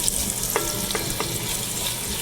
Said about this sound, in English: you just want to make sure you saute that real good